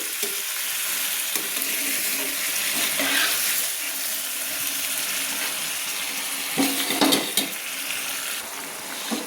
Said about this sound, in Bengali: জল ঢেলে আমি ভালো করে নেড়ে নিচ্ছি।